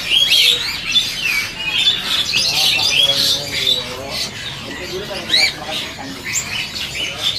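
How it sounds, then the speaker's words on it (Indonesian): Merbah lekir bulbul singing in a busy bird shop, bright chirping phrases repeating throughout amid squawks and calls of other caged birds, with faint voices in the background. "Burung apa ini? Merbah lekir."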